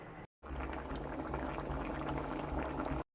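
Curry boiling in a covered pot, a steady close bubbling simmer with dense crackling texture, continuous and unbroken after a brief gap at the start.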